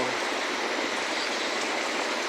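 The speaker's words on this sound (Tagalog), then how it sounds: "papakita ko lang muna sa inyo na talagang umuulan dito sa amin" Rain falls steadily outside a house as an even, unbroken hiss of moderate loudness with no voices over it.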